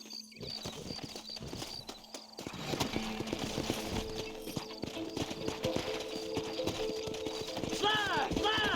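Horse hooves clip-clop steadily in the Red Dead Redemption video game, with rhythmic footfalls rising as the horses get moving, snorts and a whinny near the end, and speech over parts of it.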